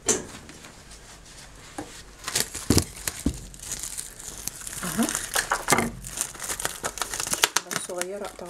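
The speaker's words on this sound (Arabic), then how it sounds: "قبل ما اغطي بقى اجيب الاستريتش رول، وابتدي ان انا احكم الغطا كويس" Plastic stretch wrap is pulled off a roll, cut with scissors and crinkled tightly over the lid of a jar of pickled lemons. Dense crackling and tearing noises come close and fairly loud, with someone speaking over them.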